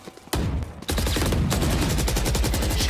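Rapid automatic gunfire in Valorant: a short burst, a brief pause, then a long sustained stream of loud, close, evenly spaced shots.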